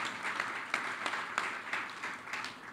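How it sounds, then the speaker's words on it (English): Outdoor crowd at a Boston Landing residential building topping-off ceremony gives a modest round of applause, a fairly faint, distant patter with a few sharper individual claps standing out over nearly three seconds, and no speech. "I like the applause on that."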